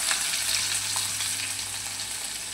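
Chopped garlic, green chillies and finely chopped onion fry in oil for tur dal, giving a steady, close hiss and crackle that holds even throughout with no talking.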